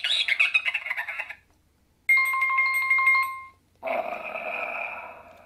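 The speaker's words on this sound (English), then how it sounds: "it tells you when to press each of the characters to make the noises" Gruffalo sound book playing electronic character noises in three separate bursts: a chattering squawk, a steady tonal beep, then a buzzy electronic call, with short silences between them.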